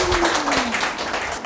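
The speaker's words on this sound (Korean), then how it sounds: "박수 한번 주세요." An audience at a business success presentation claps in loud, continuous applause, close and dense throughout.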